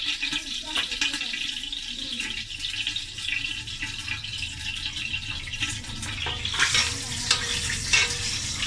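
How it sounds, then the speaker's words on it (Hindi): Masala spices sizzle and crackle in hot oil in a covered pot while rice is being cooked, making a continuous close frying hiss with occasional stirring scrapes and a brighter burst of sizzling toward the end. "ये मसाला जो है ज़रा सा कड़कड़ा रहा है।"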